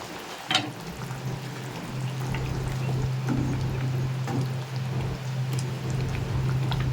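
Pomfret pieces go into a boiling curry gravy, producing a steady bubbling simmer and sizzle with a few soft splashes and clinks, close and moderately loud throughout.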